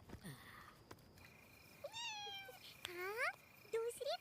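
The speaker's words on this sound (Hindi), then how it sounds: "हाँ, दूसरी बिल्ली।" A cat meows several times nearby, drawn-out rising and falling cries spaced a second or so apart over a quiet background.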